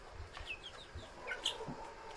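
Chickens at feeding time on a farm give short, close clucks and a few higher squawks in an irregular scatter, moderately loud over a quiet background with no talking.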